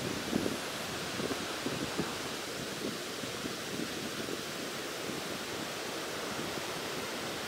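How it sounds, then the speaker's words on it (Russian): The Laxapana Falls waterfall near Maskeliya in Sri Lanka gives off a constant broad roar of rushing water, steady and even throughout with no voices. "хороший водопад."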